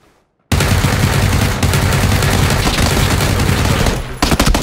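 Dense, sustained gunfire from the battle-royale shooter PUBG: loud rapid shots and automatic bursts pounding almost continuously for about four seconds after a brief silence, then a few separate cracks at the end.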